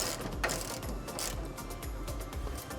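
A ratchet tightens suspension bolts on a 1962 Lincoln Continental during an Aeroleaf air-suspension install, giving a steady run of close, quick metallic clicks with faint shop noise behind it.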